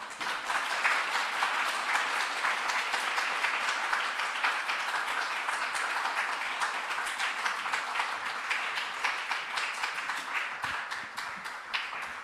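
A church congregation claps steadily in warm welcome as a visiting pastor comes forward, the dense applause holding at an even level before gradually thinning toward the end.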